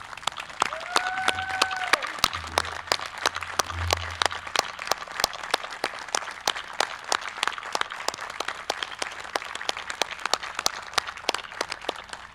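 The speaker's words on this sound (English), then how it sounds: "join me in a round of applause for Dr. Mary Ellen Brunel" A round of applause at an online town meeting, with several people clapping steadily and rather thinly for about twelve seconds and a brief tonal beep near the start.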